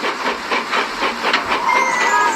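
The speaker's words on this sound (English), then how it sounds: "Murdoch passed by pulling a long train." A steam train passes pulling a long line of freight cars, giving a loud, steady rush of hiss with rhythmic chuffing pulses and a rising whistle-like tone at the end.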